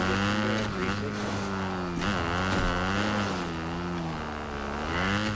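A motorbike engine in the video game Fortnite drones loud and close, its pitch wavering up and down as it revs without a break.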